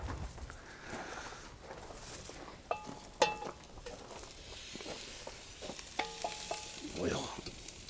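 Goulash frying and being stirred in a pan in a home kitchen, a steady soft sizzle with scraping stir strokes and a few sharper clinks of the utensil against the pan.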